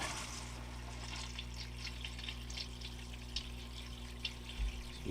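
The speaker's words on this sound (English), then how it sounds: "You can see sluice is running smooth and nice." Water runs steadily through a gold sluice from a Miners Depot dig kit, a constant faint rushing flow with occasional small splashes and no talking.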